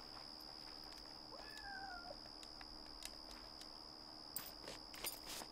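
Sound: cat meowing in the video game Yonder

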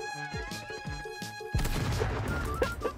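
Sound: frag grenade explosion in the video game Eclipse

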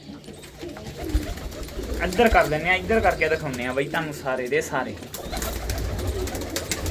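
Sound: pigeons cooing in a loft

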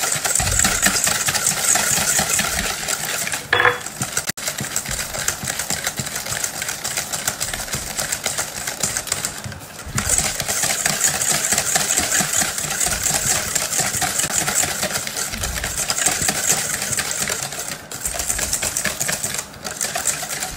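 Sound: mixing sugar until it dissolves

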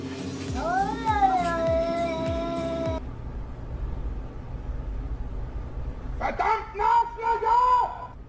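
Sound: cat meowing

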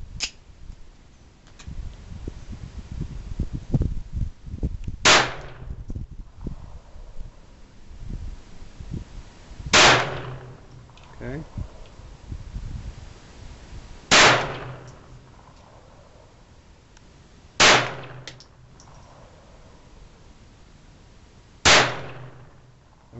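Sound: five handgun gunshots at a shooting range

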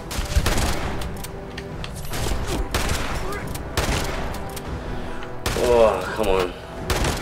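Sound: shotgun fire in video game Fallout 76

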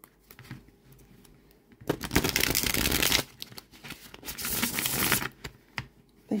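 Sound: shuffling tarot cards with linen finish

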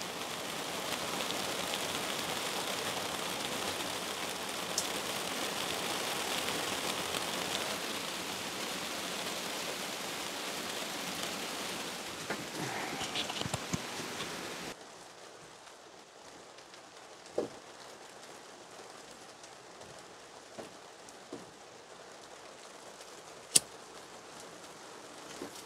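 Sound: heavy rain pouring on a greenhouse

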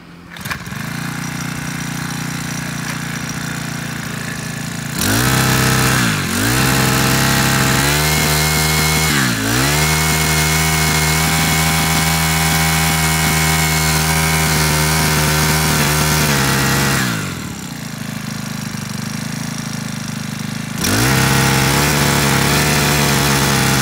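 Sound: four-stroke grass trimmer engine running

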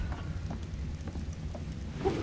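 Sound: rain in video game Ark Survival Genesis

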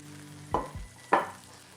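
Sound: pork cutlets frying in a pan

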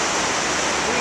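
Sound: Niagara Falls water flowing in the Canadian gorge

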